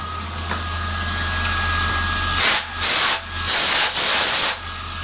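Compressed air blasts a freshly machined metal part after a fine finishing pass with coolant: four loud, sharp hissing bursts in quick succession, following a low steady machine hum with no talking.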